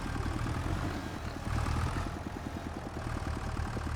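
A tractor engine idles in Farming Simulator 25 with a low, steady rhythmic chug that holds at an even moderate level throughout.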